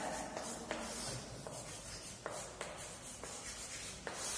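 Someone writing by hand on paper during a Hindi grammar lesson, a steady soft scratching and rubbing of the pen with light taps at each new stroke, close and quiet, with no talk.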